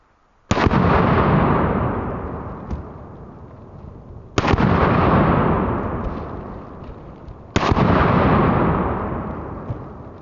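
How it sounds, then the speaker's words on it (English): Three loud IWI Tavor X95 rifle shots a few seconds apart, each striking shaving cream cans, sharp cracks followed by long rolling outdoor echoes. "let's finish her off with a couple shaving cream cans."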